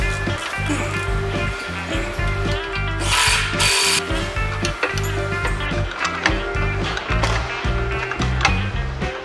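A nut being tightened on the sagging muffler of a BMW F02 750Li, heard as close, repeated metallic ratcheting and scraping strokes in an uneven rhythm, with a louder burst of grinding partway through.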